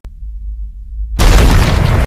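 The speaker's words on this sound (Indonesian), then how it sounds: "Ia langsung meledak." A bomb blast in a film: after a low rumbling lead-in, a sudden loud explosion erupts and roars for under a second before cutting off abruptly.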